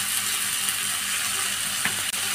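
Capsicum and ridge gourd fry in a pan with salt, giving a constant close sizzle with faint crackles and a scrape or two near the end.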